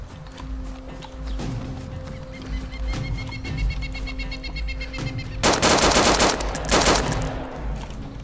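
Gunfire in DayZ Standalone: scattered distant single shots at first, then a loud close burst of rapid automatic fire near the end, with faint game ambience between.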